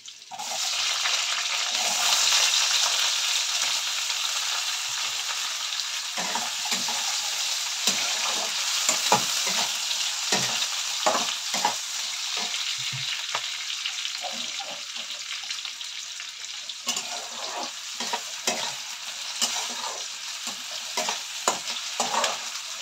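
Potato pieces fry in a pan for a karela dish. A steady, close sizzle runs throughout, broken by repeated scraping stir strokes, with no talking.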